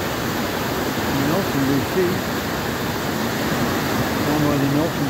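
Stewart Creek waterfall near Ymir, British Columbia, gives a steady, broad rushing roar that continues throughout while someone talks over it.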